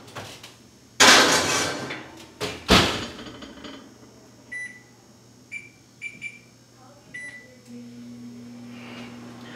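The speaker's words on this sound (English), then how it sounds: "we're going to put it back into the oven at 200 degrees" A cast iron pan goes into a kitchen oven for seasoning: two sharp metallic bangs as the door shuts, followed by a series of short electronic beeps from the oven controls over a low hum.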